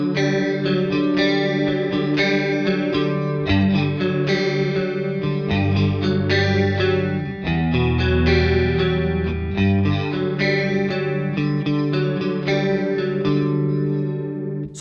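Electric guitar played through a Walrus Audio Fundamentals chorus pedal, a sustained, shimmering chorused tone with strummed chords and single notes ringing continuously and loud, no talking.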